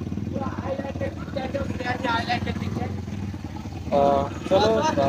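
A motorcycle engine idles with a steady low throb as the bike is parked at the entrance gate of a Ram temple, running continuously beneath close conversation.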